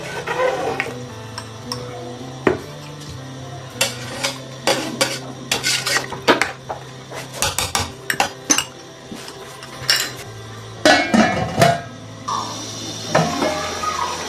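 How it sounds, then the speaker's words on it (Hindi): Rice being stirred in a metal cooking pot for pulao, a spoon scraping and clinking against the sides in irregular bursts, close and fairly loud over a steady low hum. "चावलों को हमने डाल दिया बीच में, थोड़ा सा हिला के छोड़ देते हैं।"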